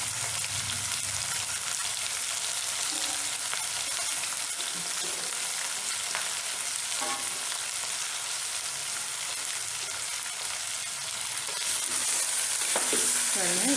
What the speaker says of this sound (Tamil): அதுக்கப்புறம் கரண்டி விட்டு கிளறுங்க